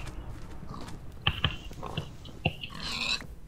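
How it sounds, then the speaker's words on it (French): A pig oinks in a Minecraft hunger games match set near a swamp, a few short grunts and snorts scattered across the clip over low game ambience. "Là-bas, il y a un cochon."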